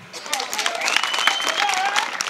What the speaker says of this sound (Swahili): Tumpe Njeje makofi.